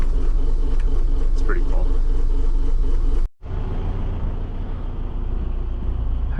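A diesel engine cranks and starts without glow plugs, then settles into a low rumbling idle close by after a brief cutout, with a voice speaking over it.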